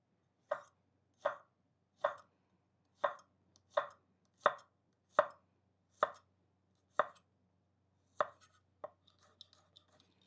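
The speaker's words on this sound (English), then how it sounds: "So you want some thin slices, and that will give the garlic time to soften up and roast up." A knife cuts garlic into thin slices on a board with about a dozen crisp, evenly spaced chops, close and clear, then a few lighter taps and scrapes at the end.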